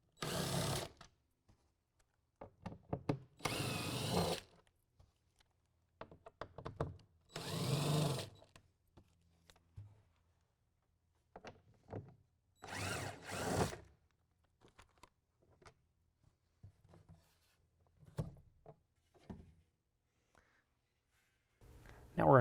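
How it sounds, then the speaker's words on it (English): Power drill driving a T30 Torx bit to back out bolts on a pickup bed rail during a tri-fold tonneau cover install, several short whirring bursts separated by pauses, close and fairly loud. "We're going to use a T30 Torx bit to take out the bolts."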